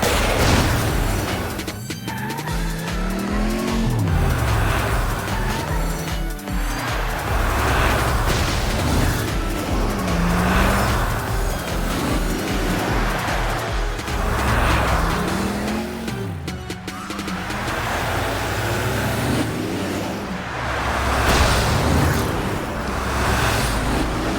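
Video-game race cars speed around a track with engines roaring and revving continuously, tyres squealing and skidding through turns, loud and dense with no talk.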